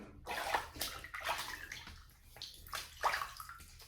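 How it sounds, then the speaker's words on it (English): Water splashes and sloshes in several bursts as a face is wetted by hand before shaving, heard close and alone. "So I'm gonna wet the face and get started."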